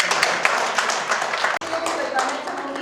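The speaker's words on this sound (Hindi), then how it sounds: "तो मैं पहले तालियां नलिन के लिए बजवाना" An audience at a law department event breaks into applause, quick overlapping hand claps forming a busy, continuous patter, with a brief drop in the middle and voices heard alongside.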